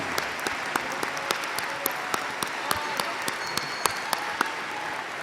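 Graduation audience applauding at a university business school ceremony, a broad steady wash of clapping from a large crowd heard at some distance, with a few sharper nearby claps standing out.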